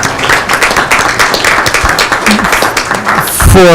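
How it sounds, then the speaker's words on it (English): Audience at a city council meeting in Livingston gives a round of applause, loud and close, with dense clapping filling the clip and a brief burst of noise near the end. "let's give him a round of applause"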